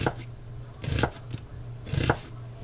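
A knife chops a white onion on a cutting board in a home kitchen. Several close, crisp cuts come in two small bursts with quiet pauses between them and no talking.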